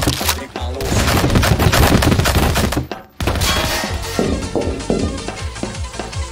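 Rapid bursts of gunfire from weapons in GMod Prop Hunt, dense loud volleys close up, a brief pause midway, then more scattered shots continuing without talk.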